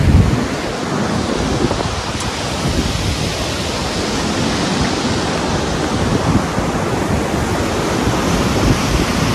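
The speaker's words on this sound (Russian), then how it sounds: "Смотрите, какое красивое море. Шумное, конечно, на сегодня." Rough April sea at a beach in Alanya, Turkey, with loud, continuous crashing surf and churning waves, a dense roar that never lets up and has no voices over it.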